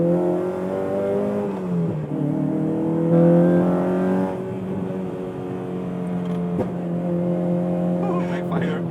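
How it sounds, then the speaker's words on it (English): A modified Honda Civic FD2R with a naturally aspirated 2.0-litre engine idles and revs with a deep tone, letting out a couple of sharp backfire pops near the end while people talk over it. "Oh, backfire."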